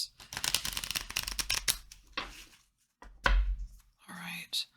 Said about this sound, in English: Let me just do one quick little shuffle like this.